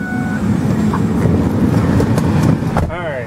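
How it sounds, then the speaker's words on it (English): Ford Freestyle engine idling and pulling out of a garage, a steady low rumble throughout with a voice talking over it and a brief tonal squeal near the end. "I'm gonna go ahead and pull this car out."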